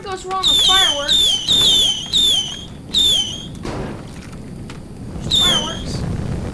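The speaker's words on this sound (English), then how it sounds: "Nothing ever goes wrong with fireworks." Fireworks in the Teardown video game, a rapid series of shrill descending whistles, each ending in a burst, repeated loud and close before fading into low rumbling noise.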